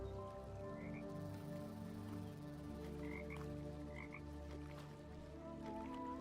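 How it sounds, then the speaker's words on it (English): Frogs croaking in the video game The Talos Principle 2: a few short croaks heard a little way off, over a steady layered ambient drone with soft dripping, and no talk. "The frog's just spawning out of nowhere."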